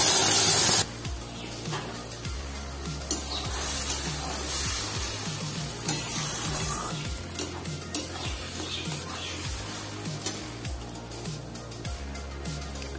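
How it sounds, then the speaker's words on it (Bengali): Ground ridge gourd paste sizzles and spatters in a pan of oil with fried garlic over medium heat, a steady close frying hiss broken by a few stirring scrapes and clinks. "এরপর এর মধ্যে দিয়ে দিচ্ছি বেটে রাখা ঝিঙে।"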